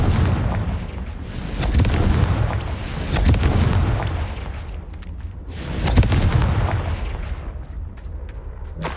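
Repeated Confringo spell explosions in Hogwarts Legacy: loud, rolling booms in overlapping waves, swelling and fading across the whole stretch with no pause between blasts.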